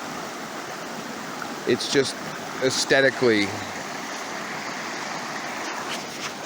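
A mountain brook in the Green Mountains, choked with debris and log jams, rushes with a steady wash of flowing water while someone speaks briefly over it.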